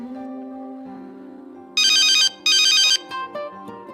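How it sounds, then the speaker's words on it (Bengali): A mobile phone ringtone plays in two loud bright bursts of a repeating electronic tone, following a low sustained musical background with no talking. "বহুক্ষণ ধরে এই নাম্বার থেকে ফোন আসিচ্ছে, না ধরে তো আর থাকতে পারিচ্ছি না।"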